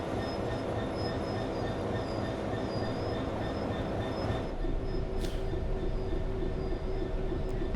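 A Class 66 freight locomotive shunts loaded aggregate hopper wagons, giving a steady heavy rumble with a sustained whine and a brief high squeal partway through. No one speaks.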